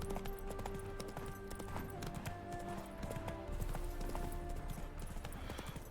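Horse hooves clip-clopping in a video game set in Skellige, a quick run of rhythmic hoof beats over ambient game sound, moderately loud and steady without talk.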